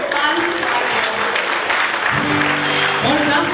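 A church congregation at a Bhutanese Nepali Christmas gathering applauds visiting guests with steady, dense clapping throughout, while voices talk over it.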